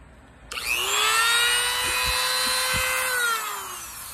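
A Dremel rotary tool cuts through a stubborn metal hose clamp, its high-pitched whine starting abruptly and holding steady for about three seconds, loud and close, then tapering off.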